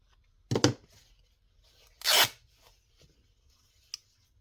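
Fabric being cut for a stitching project, giving two short tearing snips about a second and a half apart and a faint click near the end, close and quiet in an otherwise silent room.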